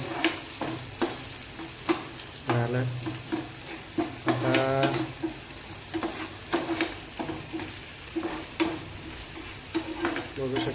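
Onion frying in a pan while being stirred, a continuous close sizzle broken by rhythmic scraping and clacking spatula strokes against the metal, with a short tonal squeak in the middle and no talk.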